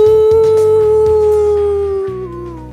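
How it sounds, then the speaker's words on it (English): A werewolf lets out a long, loud, sustained howl with a steady wavering tone that slowly fades toward the end, heard alone without speech. "he joins in the gang with a joyful howl"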